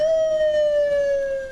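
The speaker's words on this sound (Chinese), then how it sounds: "真侪台救护车伫家角门口口来去去" An ambulance siren sounds outside a prison gate during a riot aftermath, a steady loud wailing tone sliding slowly downward without any voices.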